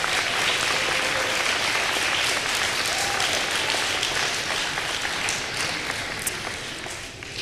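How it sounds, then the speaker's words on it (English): Audience applause at a school campus grand opening, a dense, even round of clapping from many people that lasts the whole stretch and fades slightly at the end. "Please give her a round of applause."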